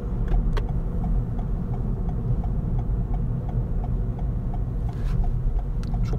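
A Toyota Corolla Flame X-Pack with a naturally aspirated 1.5 engine climbs a gentle incline, its steady low cabin drone joined by a faint regular ticking.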